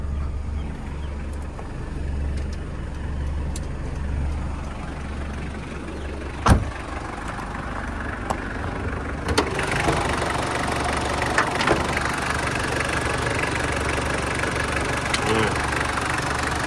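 A Mitsubishi Strada 2800 GLX diesel cab pickup idles with a steady, even low rumble up close, a couple of sharp knocks and a slight rise in hiss partway through, running on without talk.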